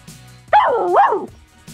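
Puppy in a Barbie video game giving one short, bright, rising-and-falling bark, close and clear against quiet game background sounds.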